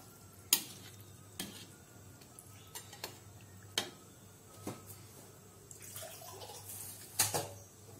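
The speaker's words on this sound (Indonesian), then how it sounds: "Ini kita masukkan airnya. Airnya sesuka hati ya. Nah, seperti ini. Kita aduk dulu sebentar ya." A spoon scrapes and taps in a pot as chicken asem-asem stew with water is stirred: faint, sparse clinks at irregular intervals over a low background hum.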